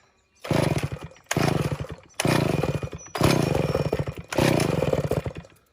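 A rebuilt, ported Stihl 041 Farm Boss chainsaw engine revs loudly in five bursts, each dropping back briefly toward a high idle between them, close to the microphone.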